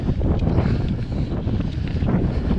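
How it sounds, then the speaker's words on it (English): Strong wind buffeting a microphone while mountain biking, a loud, uneven low rumble with gusty surges and no talking. "It is so windy out here, it's insane."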